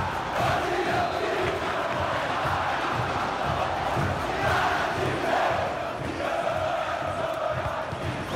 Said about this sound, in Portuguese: A torcida grita para empurrar o time